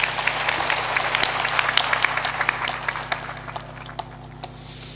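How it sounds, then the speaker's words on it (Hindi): An audience at a spiritual satsang gathering claps together in a burst of loud, dense applause, with sharp individual claps standing out as it gradually thins and fades away. "एक बार सबके सम्मान में ताली जोरदार बजा दें।"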